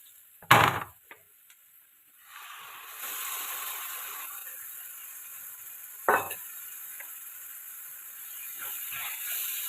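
Tomato pickle mixture in a pan, with two sharp scraping stirs and a steady hissing sizzle that rises midway and continues faintly, close and without talk.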